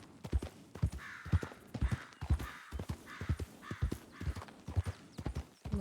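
Steady clip-clop of horse hooves in a western roleplay game, a regular rhythmic trot at close range that carries on alone without talk.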